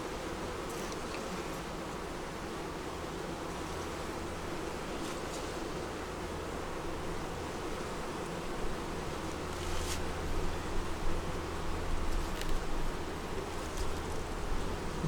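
Agitated honeybees swarming around a hive on a screen bottom board, a dense continuous buzzing drone that swells slightly louder toward the end, close and steady with no talking.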